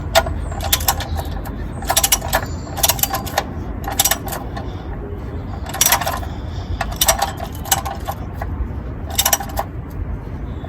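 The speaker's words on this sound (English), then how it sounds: "I'm gonna tighten it off with the ratchet" Ratchet tightening the sump screw on a Fiat Punto 1.2 MK2.5 during an oil change: bursts of quick metallic clicks recur every second or so over a low background rumble, close and crisp.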